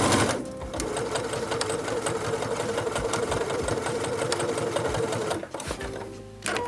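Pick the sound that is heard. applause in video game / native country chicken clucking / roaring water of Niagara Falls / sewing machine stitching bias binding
sewing machine stitching bias binding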